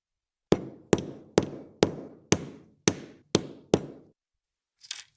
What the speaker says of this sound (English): So again, I carefully hit it with the hammer.